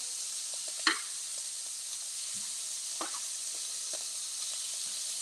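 Shrimp spring rolls frying in hot oil in a pan, giving a steady close sizzle and hiss with a few faint pops and utensil clicks, and no talk.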